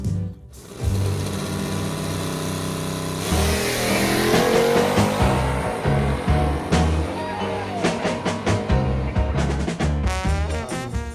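A race car engine revs and roars with rising and falling pitch, loud and continuous, with busy mechanical noise layered over it.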